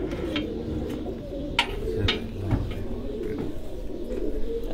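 Pigeons at a Farran pigeon sports tournament in Gujrat, cooing softly and steadily against a dense low background murmur, with a few brief sharper clicks and flutters.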